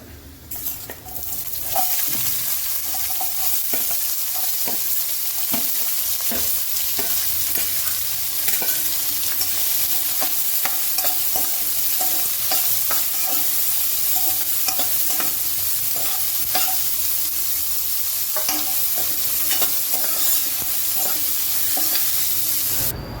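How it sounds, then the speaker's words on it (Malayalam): Chopped onion frying with cumin in a pan for aloo methi, a steady close sizzle with frequent scraping stir strokes and clinks throughout. "നമുക്ക് അതിലേക്ക് നമ്മൾ നുറുക്കി വെച്ച സവാള ഇടാം"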